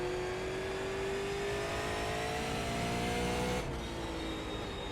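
A car runs a warm-up lap on a race track to heat its tires, its engine droning steadily and climbing in pitch before a sudden shift drops the tone, heard continuously without talk.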